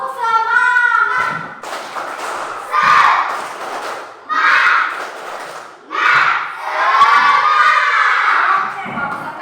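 A class of schoolchildren performs a rhythmic spirit clap, chanting together loudly and close by in repeated bursts, with sharp group claps and thumps marking the beat.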